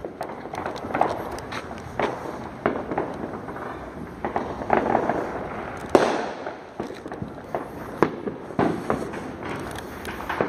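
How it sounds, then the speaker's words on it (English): Fireworks and firecrackers bang and crackle across a neighborhood on the Fourth of July, a steady barrage of sharp pops and louder booms at varying distances. "and the noises of all these fireworks going off."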